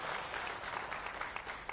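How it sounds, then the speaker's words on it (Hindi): A crowd at a political rally claps steadily in a continuous wash of applause, faint and distant-sounding, with a few sharper claps standing out near the end. "आज भी तालियां बजाकर उनका स्वागत करें, उनका अभिनंदन करें।"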